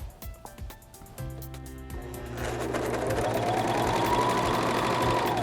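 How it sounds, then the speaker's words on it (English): A serger sews a tight rolled hem along the edge of a linen napkin, starting with a few slow clicking stitches and building into a steady, loud mechanical whir. "And you'll see that it stitches very slowly because we're making a very tight stitch."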